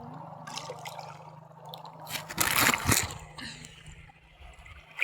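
River water trickles and gurgles nearby in faint, uneven splashes, with a louder burst of splashing in the middle, as someone bathes in the river.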